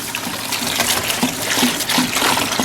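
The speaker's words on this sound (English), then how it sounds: "we're gonna take a first jug of this and just dump her in" Windshield washer fluid glugs and splashes out of a jug into a tractor tire, a steady close pouring with irregular gurgles and no talk.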